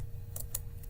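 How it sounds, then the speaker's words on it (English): Two or three quick, crisp keystrokes on a computer keyboard, close and clear over a low background hum, without any voices. "I will type exit"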